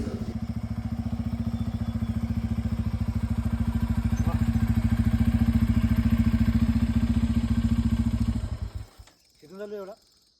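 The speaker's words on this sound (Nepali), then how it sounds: "म यहाँ चाहिँ तपाईँलाई मेरो बाइकको नेचुरल साउन्ड" A Bajaj Pulsar N250 motorcycle engine running during a hill ride near Darjeeling, a steady close rhythmic thrum for most of the stretch before it drops away abruptly near the end.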